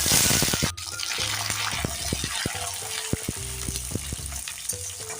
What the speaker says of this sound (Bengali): আমি এখন কিশমিশ আর কারি পাতাটা দিয়ে দিচ্ছি